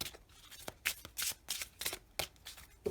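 Oracle casting cards being shuffled by hand, a series of soft papery riffles and flutters in irregular bursts, close and fairly quiet, with no talk.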